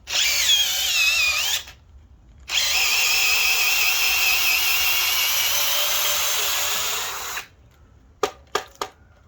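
A Metabo HPT 18V DV18DC cordless hammer drill, drilling with clogged flutes, whines loudly and close, bogging down in two sustained runs, the first brief and the second about five seconds long, then gives a few sharp clicks.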